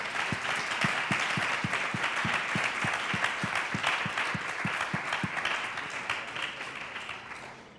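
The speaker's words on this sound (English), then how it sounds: "Big applause." A panel discussion audience applauds, steady crowd clapping with one nearby clapper's sharp, rhythmic claps standing out before gradually fading toward the close.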